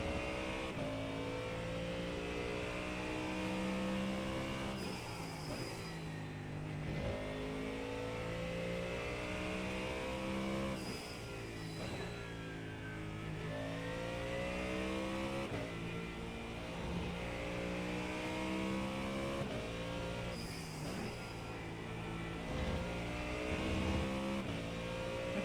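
A GT3 race car engine in iRacing drives a lap: a steady, loud drone with rising and falling revs through gear changes, brief lifts and occasional tire squeal, continuous throughout with no talking.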